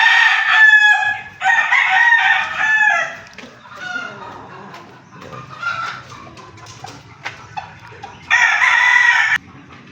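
Loud rooster crows ring out close by, three long calls spaced apart, with softer clucking and chicken chatter filling the quieter gaps between them.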